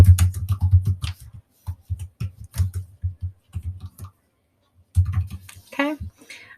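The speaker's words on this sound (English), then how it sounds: "Okay, I'm just kind of randomly typing something here." Quick bursts of typing on a computer keyboard, clustered key clicks with short pauses between them, close and clear, with a voice speaking near the end.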